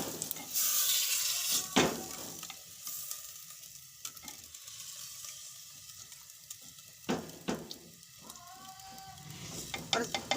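Chicken pieces sizzling in masala for a dhaba-style white karahi, with a soft frying hiss under repeated metallic scrapes and clanks of a spoon stirring in the pan, close and intermittent.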